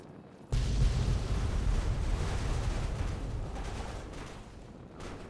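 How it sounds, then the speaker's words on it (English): An explosion in Fallout 3 bursts in suddenly and loudly after a brief quiet moment, then rolls on as a dense, sustained roar that slowly tapers over several seconds. "What an explosion it was."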